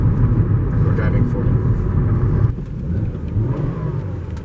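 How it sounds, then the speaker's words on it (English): A Volvo S60 2.5T revs in neutral from inside the cabin, its engine a steady loud drone that drops off partway through, with people talking over it. "Neutral revs."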